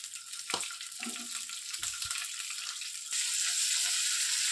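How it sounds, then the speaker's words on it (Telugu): About ten green chillies fry on a low flame in a pan, giving a close sizzle with a couple of knocks and a stirring scrape, then a louder, steadier hiss toward the end. "పచ్చిమిర్చి బాగా కలర్ చేంజ్ అయ్యి మెత్తపడే వరకు వీటిని సిమ్లోనే పెట్టి వేయించుకోవాలండి"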